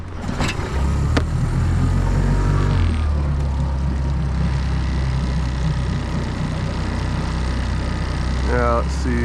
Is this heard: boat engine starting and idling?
yes